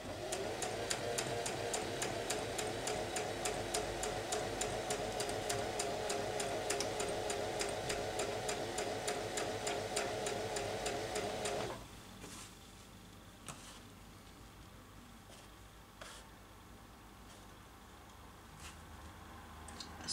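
A sewing machine runs in a fast, continuous whir while stitching a chiffon V-neckline, then stops and leaves quieter handling noises and soft clicks.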